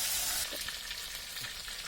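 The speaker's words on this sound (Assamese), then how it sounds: "এইটো মাছখিনি ফ্ৰাই কৰিলোঁ।" Fish frying in hot oil for an Assamese fish curry gives a steady, close sizzling hiss, loudest at first and then settling to a softer, continuous crackle with faint stirring.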